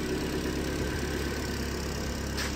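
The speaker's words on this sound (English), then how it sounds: "Engine runs nice and strong, nice and clean." A 2015 Chevy Sonic with a 1.8 liter engine and automatic transmission idles with a steady, even hum heard up close, with no talk.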